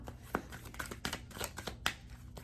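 Tarot cards shuffled and handled in a quiet room, with soft papery riffles and a few sharper flicks and taps spread across a couple of seconds, fairly close and low in level.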